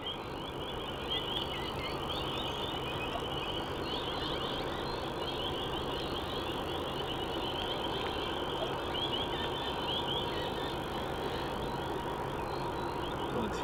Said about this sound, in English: So we've got this Jetstar A380 that's taxiing back to the gate